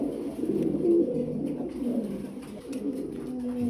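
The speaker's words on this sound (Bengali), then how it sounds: "ডিমের জন্য পুরাটাই প্রস্তুত আছে কবুতর" Pigeons kept on a farm coo in soft, repeated low throaty calls, several birds overlapping at close range against a faint background hum.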